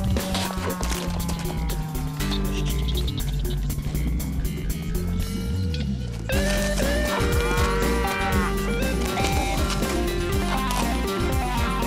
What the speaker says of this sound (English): the cattle don't relish the idea of being caught